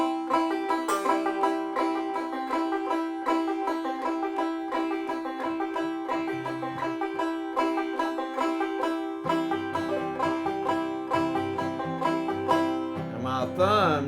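Clawhammer banjo with drop-thumb picking in a steady bouncing rhythm of bright, plucked notes with ringing drones, played up close for several seconds without any talking.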